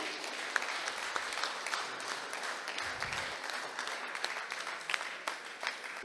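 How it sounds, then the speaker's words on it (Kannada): Steady applause from an audience at a book release event, sustained throughout with no voices over it, dense and fairly loud. "ಜೋರಾದ ಚಪ್ಪಾಳೆಯೊಂದಿಗೆ"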